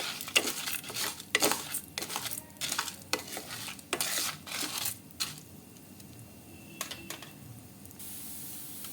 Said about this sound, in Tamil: இதை வந்து நம்ம வறுத்துடலாம் நமக்கு வந்து அரிசி வந்து நல்லா பொரியணும்